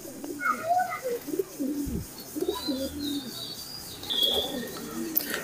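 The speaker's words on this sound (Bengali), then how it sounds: "এখানে দেখেন কিছু দেশি কবুতর দেখতে পাচ্ছেন" Pigeons coo in soft, rolling bursts among scattered chirps, with imported and local high-flyer birds held on stands in a loft; faint talk and rustling sit under the calls, and a brief wing flutter appears late.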